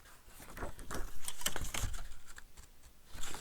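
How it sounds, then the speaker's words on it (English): Sticky scissors cut paper for a sewing template, giving a faint, busy run of crisp snips and rustles, close by and without talk. "My scissors are giving me trouble because they're kind of sticky right now."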